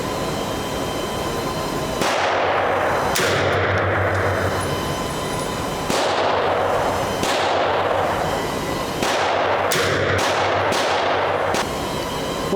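Pistol shots from early 1900s handguns such as a C96 Mauser fired with new ammunition, several loud sharp cracks spaced irregularly, some in quick pairs, each ringing out with echo at an outdoor range.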